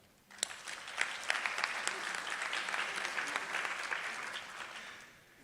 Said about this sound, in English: a round of applause for our staff.